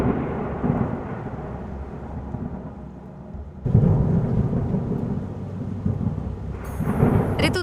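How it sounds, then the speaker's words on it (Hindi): Steady heavy rain with deep rumbling thunder, swelling louder partway through, set in a Hindi horror animation on a haunted road; no voices. "कुछ ही देर में बारिश शुरू हो जाती है।"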